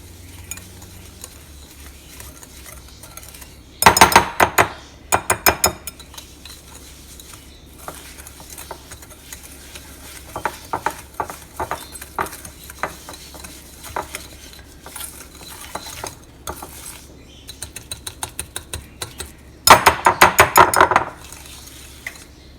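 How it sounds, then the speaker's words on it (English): Pancake batter, made without milk, is whisked in a bowl: rapid metallic clinking bursts against the bowl come in several short spells between quieter pauses, close and clear, with no talking. "You're going to whisk it together until it becomes to a light creamy consistency."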